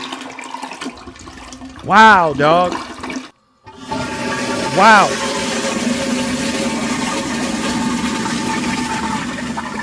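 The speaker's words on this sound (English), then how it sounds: "Let's flush that." A toilet flushes with a loud rushing whoosh that continues steadily, a person speaking briefly over it with a wavering voice.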